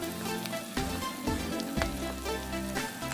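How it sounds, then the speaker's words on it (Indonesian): Fried potatoes going into a pan of chicken liver, gizzard and boiled intestine for potato balado, giving a steady loud sizzle and crackle of hot oil, with a few sharp clattering stirs and scrapes of the pan, no talk. "Lalu aku mau masukkan kentang gorengnya."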